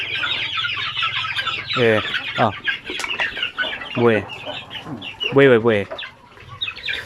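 Chickens and chicks on a native chicken farm cluck and squawk close by, in repeated bursts over a steady background of peeping, with someone speaking briefly.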